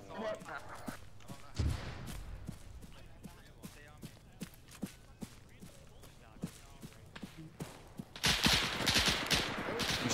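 Machine gun fire from a church tower in a war video game, short sharp bursts and scattered shots in an irregular rhythm, moderately distant, under talk, with a louder rush of noise near the end.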